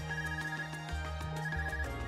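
An Arcus communicator in the video game Trails of Cold Steel rings with a repeating electronic ringtone, a steady melodic pattern of tones over soft background game music.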